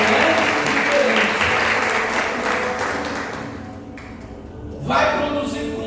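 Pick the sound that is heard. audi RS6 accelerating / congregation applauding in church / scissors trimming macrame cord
congregation applauding in church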